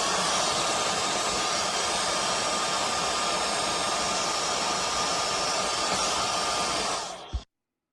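A compact handheld marketplace air blower runs without its nozzle, giving a loud, steady, close rushing whine of air that holds level throughout and then cuts off abruptly near the end.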